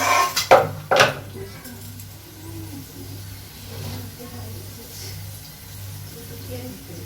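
A lid is set on a pot of steamed rohu fish, giving two quick metallic clanks close by, followed by a low hum and a person speaking.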